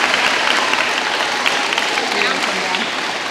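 At an elementary school 6th grade awards ceremony, the audience claps loudly and continuously for the award winners, a brief burst of dense applause with a little crowd murmur underneath.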